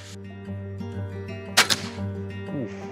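Crossbow bolt striking a coconut: a sharp, loud double impact crack stands out once over a steady background hum, with no talk.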